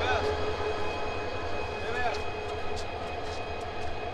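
Saikat Express train on its inaugural Chattogram to Cox's Bazar run, hauled by a 1500 horsepower locomotive, gives a steady low rumble with faint rail squeals, alongside people talking.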